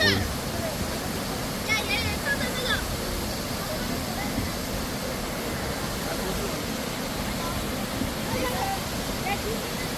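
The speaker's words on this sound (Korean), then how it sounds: "여기가 용년 폭포다." Yongyeon Falls in Juwangsan National Park roars steadily in a broad, even rush, with faint voices and occasional chirps barely audible over the water.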